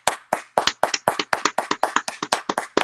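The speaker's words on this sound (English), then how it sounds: "Let's clap it up for it." Hands clap in a quick, steady rhythm, about a dozen sharp claps close to the mic with little else around them.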